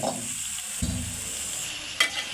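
Baim fish, a spiny eel, frying in a pan with a steady sizzle, stirred once or twice with a brief clatter near the middle and a sharper knock near the end.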